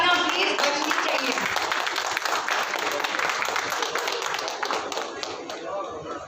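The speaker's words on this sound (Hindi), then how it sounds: "जोरदार तालियां प्लीज बजनी चाहिए।" A crowd claps loudly and steadily for a guest called up on stage, with dense rapid handclaps through the whole stretch that thin slightly toward the end.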